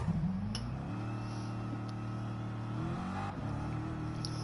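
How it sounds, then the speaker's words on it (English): A car in Gran Turismo Sport revs and swings through a handbrake turn, its engine rising and holding a steady strained note before easing off, loud and close, with no one talking. "And a handbrake turn for the fans."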